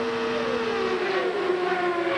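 CART race cars at the 1998 Michigan 500 scream past in a continuous loud stream, the engine pitch sliding downward as cars go by, steady and close with no talking.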